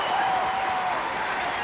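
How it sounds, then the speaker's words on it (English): Applause from a large audience at the 1985 Mrs America Pageant in Reno, a steady dense wash of clapping filling the whole moment with a faint sustained tone running through it. "I want a round of applause as I mention them all one more time"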